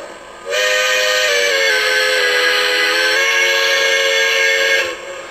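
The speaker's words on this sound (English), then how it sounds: "you can change the pitch of the horn or whistle." A sustained Lionel LionChief toy train whistle sounds for several seconds, a bright multi-tone chord that steps slightly in pitch before cutting off, heard alone.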